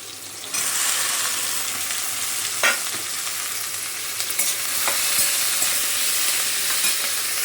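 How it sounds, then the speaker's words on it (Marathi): Kokum and green chilies sizzling steadily in hot oil in a pan, a continuous close frying hiss with a few brief stirring knocks and scrapes, no voices. "हा कोकम असा छान तळून निघतो ना, तर याचा आंबटपणा हे तेलामध्ये उतरतो"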